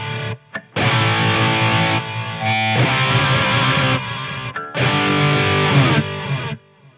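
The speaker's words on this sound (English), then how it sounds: "Currently I have it set on drum, which is your echo rec style thing." An electric guitar played through a Strymon Volante echo pedal on its drum echo setting rings out in loud, distorted chords with repeating echo tails, separated by short pauses.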